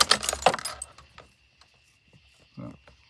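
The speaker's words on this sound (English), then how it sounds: "You got the keys right here." Car keys for a 1990 Ford Bronco II with a 4.0L engine and manual swap jangle as they are dropped in, a short metallic burst of clinks up front, then near silence with a faint later thud.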